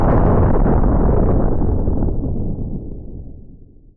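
An atomic bomb blast roars as one huge, loud, deep explosion. It begins abruptly at full force and then rumbles and fades slowly over several seconds.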